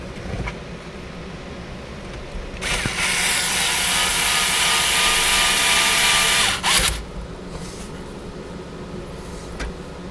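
A power tool whirs loudly for about four seconds as parts are bolted back together during vehicle work. It starts and stops abruptly, and quieter workshop background surrounds it.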